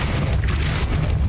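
The Depulso spell in the video game Hogwarts Legacy releases a short, heavy booming blast with a dense rumbling low end, loud and close, over about a second.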